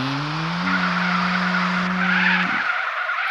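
Tires skid and squeal under a revving car engine in the mobile version of GTA San Andreas, a loud continuous screech with a steady engine tone that cuts off near the end.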